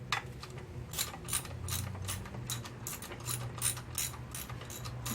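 A ratchet wrench clicks in quick bursts while removing the alternator from a Pontiac LeMans under restoration, with rapid pawl clatter coming in repeated short runs, close and fairly quiet, over a faint low hum and no speech.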